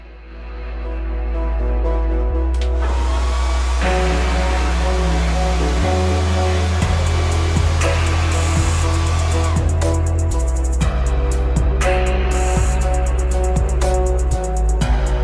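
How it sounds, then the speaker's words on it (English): A hot air gun heating the corners of a carbon fibre skin on an iPhone X, giving a loud continuous fan whir and blowing hiss that shifts pitch as the power changes, with regular clicks, no voices. "heat each corner in multiple takes, alternating heat and then pressing firmly down in small increments"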